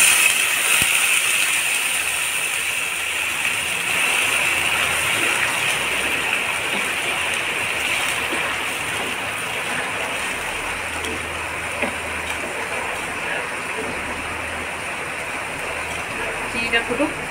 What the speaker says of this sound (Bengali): চিনিটা ফুটুক।